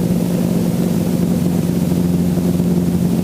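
A training helicopter making a normal takeoff fills the cabin with a steady, loud, unbroken engine and rotor drone that holds an even level throughout.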